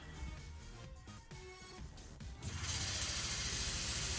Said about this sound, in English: I'll spray a little bit of water right here on the engine bay.